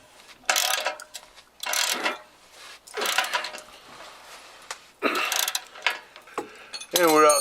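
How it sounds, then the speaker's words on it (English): A ratchet bolts down the Coyote exhaust on a 1993 Fox body Mustang in several close, crisp bursts of rapid clicking, with short pauses between turns. "I'm just gonna go ahead and bolt it down."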